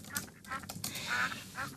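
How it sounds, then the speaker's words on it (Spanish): Ducks quack on a virtual farm in a game, a string of short, fairly loud nasal quacks in quick, uneven succession with no talking. "Estoy dando de comer a los patos de mi granja."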